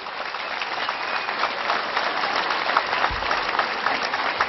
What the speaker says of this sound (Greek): Ένα θερμό χειροκρότημα στις κυρίες Δήμογλου και Καραγιάννη, στους Ολυμπιονίκες της ζωής